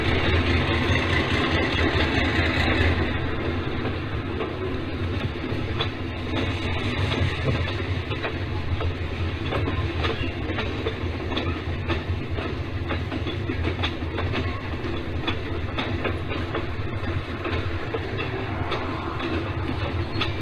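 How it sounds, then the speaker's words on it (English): A Kingsport and Western Railroad model train brings a transfer run into West Mill on a Penn Central layout, giving a steady rumbling roll with continuous rail clicking that stays constant and close throughout. "the Kingsport and Western Railroad bringing a transfer run into West Mill."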